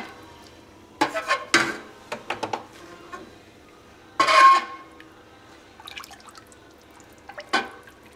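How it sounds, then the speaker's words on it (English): Calcium chloride diluted in water is stirred into a pot of cheese milk, with intermittent close liquid sloshes and clinks of the spoon against the pot in short bursts separated by quiet gaps. "We'll give that a stir."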